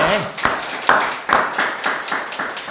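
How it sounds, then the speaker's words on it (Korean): Church congregation clapping in rhythm during a worship service, a series of sharp claps under a low murmur of voices, fairly close and moderately loud. "할렐루야 박수로 하나님께 영광을 돌리겠습니다"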